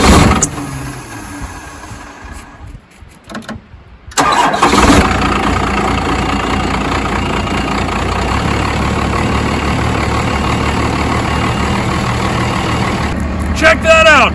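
A truck engine cranks in short uneven bursts, cuts out briefly, then catches and settles into a loud, steady idle that runs to the end, with people talking over it.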